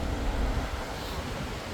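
Wind blowing across the open rear deck of the P&O Iona cruise ship, a steady broadband rush with low buffeting rumble throughout, loud and close to the microphone.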